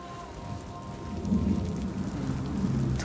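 Heavy rain falls in the video game Senua's Saga: Hellblade II, a continuous wash of downpour with low rumbling beneath that swells slightly partway through, no voices present.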